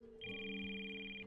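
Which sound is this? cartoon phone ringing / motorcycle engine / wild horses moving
cartoon phone ringing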